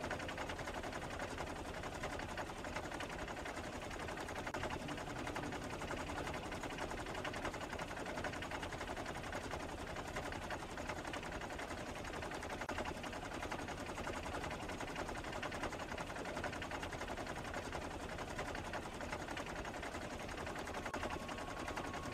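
Continuous automatic gunfire in Factorio as weapons cut down biters: a dense, steady stream of rapid shots at even loudness that never lets up, with no voices.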